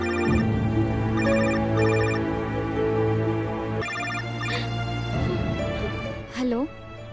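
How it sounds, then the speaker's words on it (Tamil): An incoming call's ringtone on a mobile phone plays a repeating melodic pattern, loud and close, in a domestic scene from a Tamil TV serial, with background music underneath and a voice briefly speaking near the end. "அக்கா, கௌதம் கால் பண்றாரு, பேசுக்கா."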